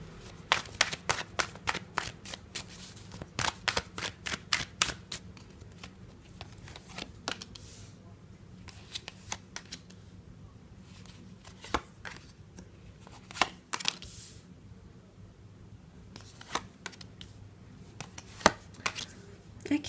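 Tarot cards being shuffled by hand, giving repeated bursts of crisp riffling and slapping at an uneven pace, some runs quick and dense, others sparse, fairly close with a faint hum underneath and no speech.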